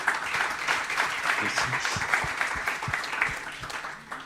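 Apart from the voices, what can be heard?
audience applause for the two speakers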